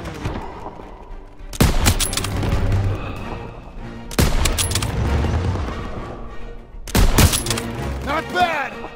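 Heavy gunfire in Call of Duty: WWII comes in three loud, dense volleys of rifle and machine-gun shots with booming impacts between them, set in a World War II street battle, with brief voices in the background.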